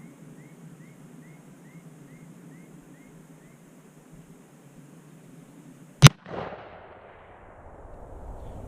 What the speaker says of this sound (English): I think we might shoot the 6mm for a bit here.